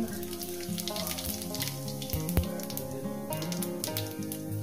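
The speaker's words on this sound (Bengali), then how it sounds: "তেল গরম হয়ে গেছে দেখেন। দিয়ে দেবো জিরে" Cumin seeds sizzling in hot oil in a pan, a steady close frying hiss with crackling and a few stirring sounds, continuous and alone.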